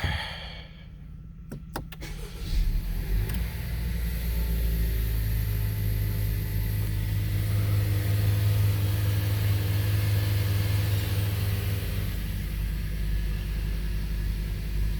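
A 2020 Honda Civic EX with about 1,500 miles starts up after a brief crank, then settles into a steady, low, even idle that continues close by with no one talking.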